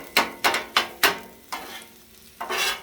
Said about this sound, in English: Keep flipping it till your eggs are done.